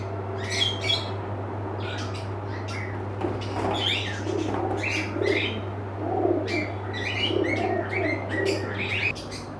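Pigeons at a pigeon and fish shop in Kolaghat, Purba Medinipur, chirp, squawk and coo in a busy, continuous chorus over a steady low hum, with no talk.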